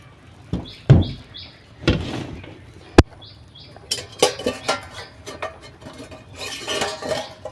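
A fish and vegetable dish being stirred in a cooking pot, with close clanks and scrapes of a utensil against metal, a sharp knock, and rustling clatter, alongside a few brief chirps.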